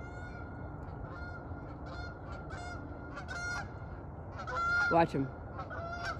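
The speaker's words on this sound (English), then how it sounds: "I hear some geese coming in." Geese honk repeatedly as they fly in over a pond, their calls coming in uneven bursts and growing louder toward the end, while a person speaks briefly.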